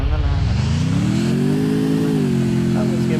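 A motorbike engine in the Free Fire video game drones steadily and loudly, its pitch climbing as it revs and then holding a high, even note, with no pause throughout.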